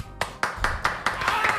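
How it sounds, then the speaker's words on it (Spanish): An audience claps for a guest on a Peruvian comedy show: several distinct sharp claps at first, quickening into a looser round of clapping from a small group close by. "un aplauso para el señor Cristian Sánchez."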